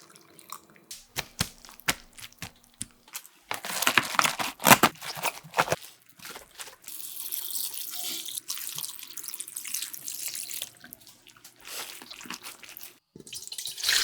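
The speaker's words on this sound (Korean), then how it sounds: "절여지면서 나온 물은 위에 부어주세요." Water from salted napa cabbage for kimchi is poured back over the stacked leaves, giving an intermittent splashing and trickling with drips and handling clatter, close and fairly loud.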